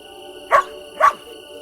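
Two short, sharp dog barks about half a second apart ring out over a steady tonal game-music bed in the puzzle adventure Lost Lands 9, Stories of the First Brotherhood, in a scene with scattered sheep.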